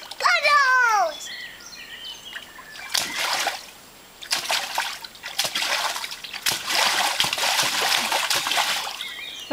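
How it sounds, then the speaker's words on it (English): A child jumps and splashes through outdoor puddles, with repeated wet splatters coming in bursts, a bird calling near the start, and a voice heard faintly in the background. "Jumping down the puddles."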